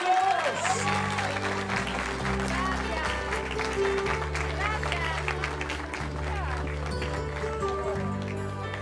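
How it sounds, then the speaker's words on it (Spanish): Applause and crowd noise for a bride and groom at a wedding, heard under a sustained music track with a few voices and loose clapping mixed in. "Y un aplauso fuerte para los novios"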